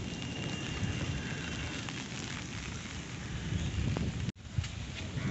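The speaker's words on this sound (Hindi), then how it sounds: "बारिश थोड़ी हल्की हो गई" Steady, dense monsoon rain hisses and patters close by at a house in Siwan, Bihar, continuous throughout, with a brief dropout near the end before the downpour resumes.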